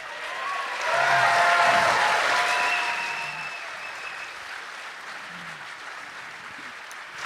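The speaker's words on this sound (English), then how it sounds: "biggest round of applause for Molly and Chris." A live audience at a podcast show in Iowa City breaks into sustained applause, swelling quickly then tapering into a steady clapping wash, with a few cheers mixed in.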